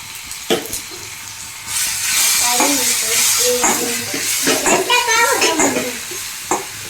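Vegetables with a little turmeric and cardamom sauté in a pan for tomato rice, a hissing sizzle broken by spatula scrapes and clinks, close and loud, with a voice speaking over part of it.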